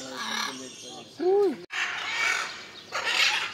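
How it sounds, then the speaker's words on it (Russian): A red macaw at a zoo in Adjara, Georgia gives loud, harsh squawking calls in short bursts, close by, while people talk nearby. "Это красный ара."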